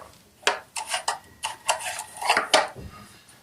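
Burger mixture with black pepper and salt being stirred in a bowl, an irregular series of scraping, rubbing strokes with light clinks of utensil against the dish, fairly close and quiet.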